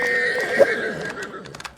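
A single horse gives a short, fairly close whinny in a fantasy audio drama, rising sharply for a moment over a thin background wash before fading.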